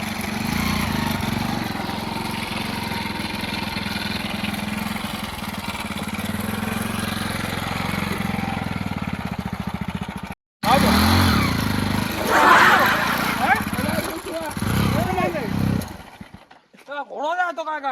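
A motorcycle engine runs with a steady, close rumbling drone for about ten seconds, broken by a brief cut, then a rougher stretch that fades out. Voices talk over the engine and continue after it.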